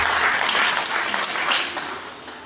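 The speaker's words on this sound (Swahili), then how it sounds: "Pigie Yesu makofi kwa jina la Yesu." A church congregation claps for Jesus during a worship service, giving a short burst of dense, fairly close applause that fades slightly toward the end.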